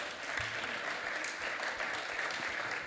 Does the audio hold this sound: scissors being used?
no